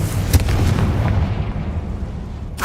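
A Confringo fire spell in Hogwarts Legacy bursts as a loud, close, booming explosion that rumbles on, followed by another sharp blast right at the end, with no talk.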